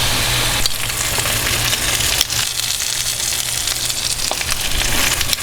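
Pork chops browning over high heat in a hot pan, a loud steady sizzle close by with a low hum underneath and no talking.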